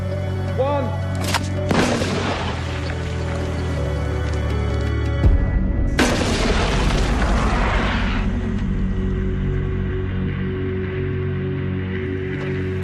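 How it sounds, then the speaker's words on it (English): A mortar fires a grapnel and rope up a sea cliff face like the one at Pointe du Hoc, with two loud booming blasts a few seconds apart, each trailing into a long rumbling roar over a steady hum. "this one fires the grapnel and rope over 150 feet up the cliffs"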